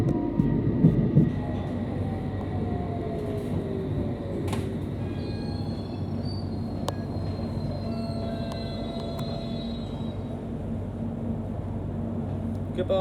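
Train unit 802-114 pulls into London Paddington station with a continuous rumbling roll, rising and falling tonal whines and a squeal of wheels, mostly steady in loudness, with a faint voice in the background.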